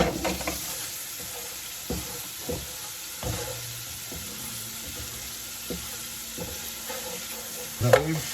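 Lamb nali paya stirred and fried in a pan with a little water, a soft continuous sizzle broken by repeated scraping stir strokes at irregular intervals, with a louder clatter near the end and no talking.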